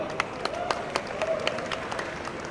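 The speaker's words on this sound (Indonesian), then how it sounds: "Boleh tepuk tangan dulu semuanya." Listeners at a stand-up comedy event sponsored by the Indonesian police applaud, moderately loud scattered clapping with distinct hand claps and some voices underneath.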